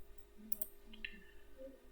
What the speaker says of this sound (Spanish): Le hacemos doble clic y nos vamos a encontrar con un nodo